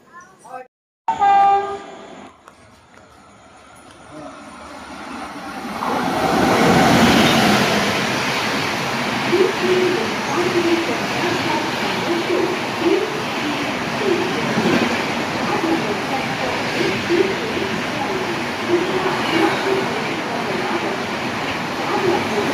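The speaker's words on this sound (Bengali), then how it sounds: "এই দেখছেন দীঘা স্পেশাল ট্রেন।" The Digha–Malda Town special express at Dankuni Junction station: a brief horn blast near the start, then a rising, sustained rumble and rhythmic wheel clatter of the train running close by, with voices faintly in the background.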